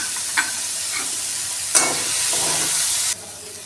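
Carrot and capsicum frying lightly in a pan, a steady broadband sizzle throughout with a couple of sharp stirring clinks, ending abruptly near the close; no voices.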